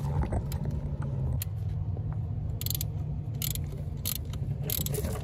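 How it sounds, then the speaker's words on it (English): A 9/16 wrench works on an access plate of a Bobcat T650 skid-steer, with a steady, close mechanical rumble and a run of light metallic ratchet clicks over it. "We're gonna remove using our 9/16 wrench to run a drain tube from the bottom of the block"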